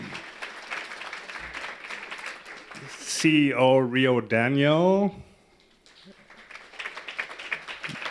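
Audience applause at a gala, a steady patter of clapping running for several seconds around a speaker's voice, then fading into quieter room noise before clapping picks up again.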